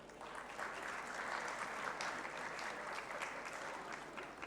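Audience applause at a Pakistani media panel event as a guest is called to the stage; steady, dense clapping from a large crowd, even in level throughout and heard alone without talk.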